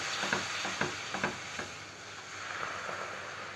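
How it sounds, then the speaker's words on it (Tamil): Wheat halwa cooking in ghee as jaggery syrup is added, a steady sizzle with a few soft, rhythmic scraping strokes of a stirring spoon in the pan, close and fairly quiet. "இதை நம்ம கொஞ்சம் கொஞ்சமாக சேர்த்துட்டு அப்படியே கலந்து விட்டுக்கிட்டே இருக்கணுங்க"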